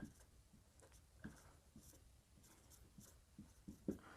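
A teacher writing on a classroom board during a physics lesson, a faint, quiet series of short scratchy strokes and taps in an irregular rhythm, with no talk over it.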